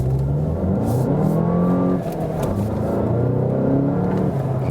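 A VW Golf GTI Performance accelerating hard, its engine climbing in pitch through a gear, a brief dip at a shift, then pulling again, loud and close with steady road and wind noise beneath.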